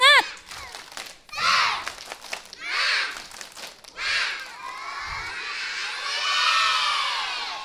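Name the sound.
children doing the spirit clap chant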